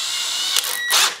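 Power drill spinning a drill bit into cabinet wood, a steady whirring buzz that swells twice in short surges, close and loud with no talk.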